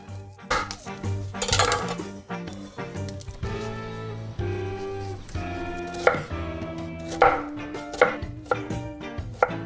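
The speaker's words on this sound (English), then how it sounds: "Chop up an onion, just one nice yellow onion, and chop it up pretty finely." A yellow onion is chopped finely for bread stuffing. A knife strikes the board in quick close taps, with short bursts and brief pauses, loud and clear, and no talk.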